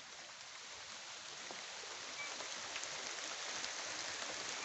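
Steady rain falls outdoors, a dense even hiss of drops on surfaces that rises slightly partway through and carries on with no voices.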